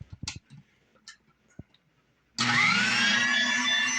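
An electric meat grinder starts up after a few faint clicks and taps and then runs steadily with a loud, dense whirring motor drone as it grinds meat trimmings from top round.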